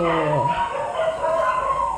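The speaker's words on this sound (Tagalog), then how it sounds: "Ingay naman ng aso." A dog barks and howls nearby, with a drawn-out whining tone over steady background noise.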